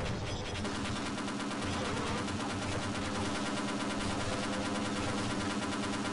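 Sustained rapid gunfire from Half-Life weapons, a dense, continuous burst of shots rattling at steady loudness for several seconds with no talking.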